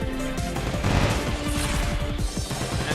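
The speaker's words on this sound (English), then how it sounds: "Michael attempting to just cheese it out with the chain guns" Rapid chain gun fire from the Cosmic Clash 2 robot combat game, with dense, continuous bursts of repeating shots over a steady roar of arena noise, loud and close throughout.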